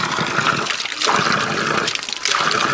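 Water from a natural mountain spring in a high Himalayan village in Chamoli, Garhwal, pours steadily and splashes continuously, loud and close, with no voices.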